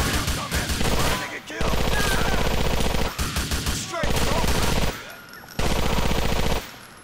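Rapid automatic gunfire in GTA IV, loud sustained machine-gun bursts broken by short pauses, with a player's voice reacting between volleys.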